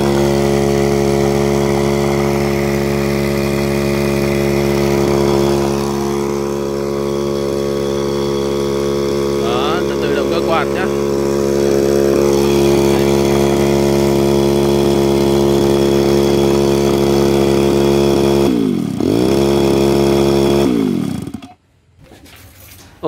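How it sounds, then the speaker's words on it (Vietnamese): A homemade 220V generator built from a converted electric fan motor runs with a loud, steady mechanical drone and hum, holding constant before winding down and stopping near the end. "biến một cái động cơ quạt bình thường này này thành một cái máy phát điện 220"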